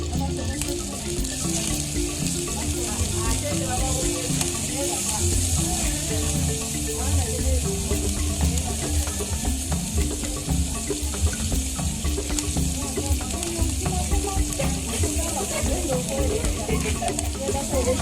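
Chopped onions fry in a pan over a charcoal fire in an African village kitchen, giving a steady, dense sizzle with stirring under faint background voices.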